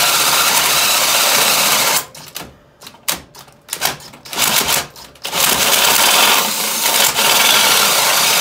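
Power drill boring out and enlarging the mounting holes in a metal plow mount for a zero-turn mower, with a dull bit grinding in several bursts separated by brief pauses, loud and close.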